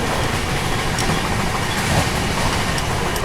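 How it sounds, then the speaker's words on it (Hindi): Duronto Express running at 130 km/h soon after leaving Kota, a constant loud rush of rail noise and wagon rumble from inside the train, unbroken and without voices. "बाकी अपनी दुरंतो दोस्तों निकलते ही कोटा से देखो फिर से 130 की रफ्तार पे।"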